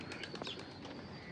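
A pigeon cooing at a resort near Madani, Dhaka, soft and fairly distant under a steady bed of outdoor background noise, with a few faint chirps.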